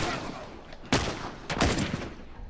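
Sniper rifle gunfire in The Last of Us Remastered: two sharp, loud shots about half a second apart, the second trailing into a brief rattling tail, set against low game ambience.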